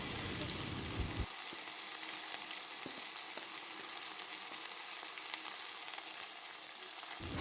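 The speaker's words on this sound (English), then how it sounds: "Heat some oil in a pan, then add the sliced okra." Sliced okra fries in hot oil in a pan, producing a continuous, fairly faint hiss and crackle that runs unbroken with occasional small pops.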